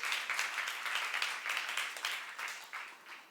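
Church congregation clapping, a broad, fairly faint wash of many hands that rises and falls in uneven waves across a few seconds, with no clear speech.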